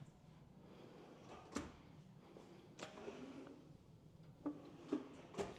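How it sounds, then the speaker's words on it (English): Kitchen cabinet drawers in a luxury Spanish-style model house in Texas slide open one after another, giving about five short, soft thuds and rolling scrapes over a quiet room background. "I'll open up some of these drawers so you can see how much storage you have."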